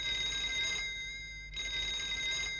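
Telephone ringing in a cartoon scene, two loud electronic trill bursts separated by a short gap, steady bright tones, no talking.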